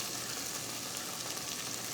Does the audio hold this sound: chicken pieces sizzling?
yes